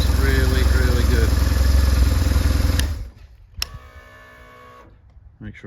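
A BMW R1150 GS motorcycle engine runs loud and close after a starter motor replacement, then cuts off abruptly, leaving quieter clicks and faint handling sounds.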